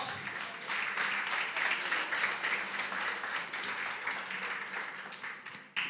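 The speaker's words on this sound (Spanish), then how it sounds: "Un aplauso para Santi" A church congregation applauds during a service, a dense wash of many hands clapping steadily throughout at moderate distance, with a few voices mixed in.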